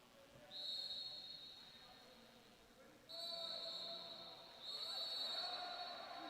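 Referee whistle blasts at a college water polo match in an indoor natatorium, three sustained shrill tones in a row over a reverberant crowd and pool backdrop with commentary talking throughout.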